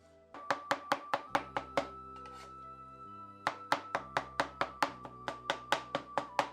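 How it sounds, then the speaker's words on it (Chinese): A cleaver chops lean and fatty pork into fine mince on a board in a rural kitchen, giving loud, close, rapid rhythmic thuds in two bursts with a brief pause between them. "瘦肉肥肉已经剁得很碎了"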